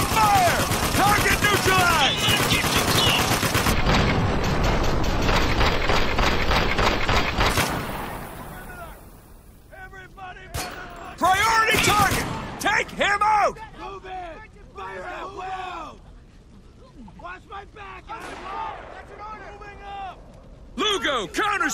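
Sustained gunfire and bursts of automatic weapons in the video game Spec Ops: The Line, loud and dense at first, then easing into scattered volleys under shouted voices calling out to one another.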